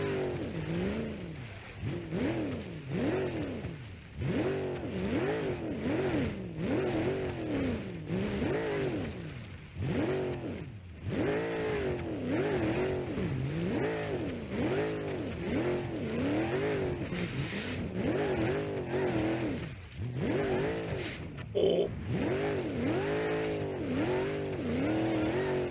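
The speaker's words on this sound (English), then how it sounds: "Now this thing can drift when it gets going." A Dodge Dominator-style car in BeamNG.drive drifting, its engine revving and falling in repeated surges while tires squeal through long slides, loud and close, with no talk.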